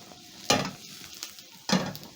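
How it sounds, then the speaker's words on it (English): Fries with garlic powder and coriander are tossed in a hot pan, giving two sharp bursts of scraping and sizzling about a second apart over a low, steady frying hiss. "Toss around the fries so that they can cook together with the garlic powder and coriander."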